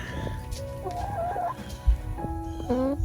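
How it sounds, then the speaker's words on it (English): Chickens on a homestead in sub-zero temperatures cluck and warble nearby, several short rising calls over low rumbling noise, with a brief thump partway through. "What are you chickens doing out here?"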